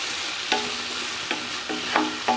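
Mint and coriander leaves frying in a pan for mutton biryani, a loud continuous sizzle with a few sharp scrapes of a spoon against the pan, close and without speech.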